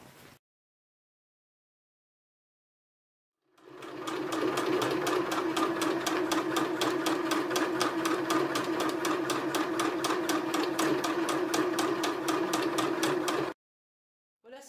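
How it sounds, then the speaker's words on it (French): A sewing machine runs steadily for about ten seconds stitching a seam along the bottom of a gathered fabric handbag, a fast even clatter after a stretch of silence, then stopping abruptly. "Et maintenant, on passe une couture ici, en bas."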